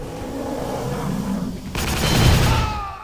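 Gunfire in the video game Prey, a sudden burst of rapid shots cutting in partway through over low background game ambience, loud and close.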